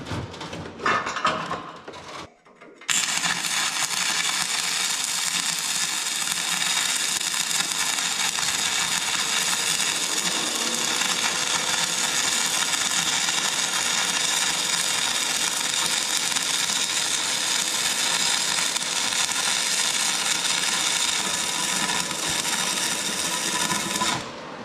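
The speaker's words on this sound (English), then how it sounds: "we're going to up our amperage a little bit to try and get a little bit better weld" Electric arc welding on a tow truck wrecker at a raised amperage: a steady, loud crackling and sizzling hiss that holds for about twenty seconds after a few brief clicks and taps, with no talking.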